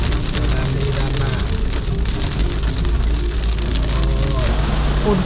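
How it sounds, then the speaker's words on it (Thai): Heavy rain pours steadily on a road in southern Laos, a constant loud hiss with low vehicle rumble beneath, while someone talks over it throughout. "ฝนตกเนาะพี่น้องฝนตกนัก"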